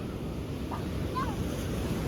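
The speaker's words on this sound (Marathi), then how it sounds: "समुद्राचा आवाज बघ खवरा येतो" Sea surf on a beach roars in a steady broadband wash, mixed with wind buffeting the microphone, and a faint voice briefly in the background.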